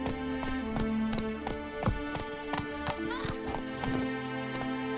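Hooves of Roach, the horse in The Witcher 3, clip-clop in a steady rhythmic gallop, moderately close, over a layered game music bed with occasional swooshes.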